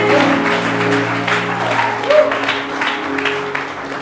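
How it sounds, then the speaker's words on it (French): Church congregation applauding during a French-language sermon, a steady wash of clapping that carries through the whole stretch over a low sustained tone, loud and near. "Acclame Jésus de Nazareth."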